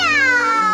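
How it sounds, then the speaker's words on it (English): A cartoon cat gives one loud, clear meow, close and sustained with a slightly falling pitch. "Meow. Meow."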